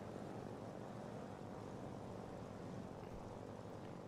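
Steady, even drone of a light aircraft engine while the plane taxis on the ground, with no talk over it.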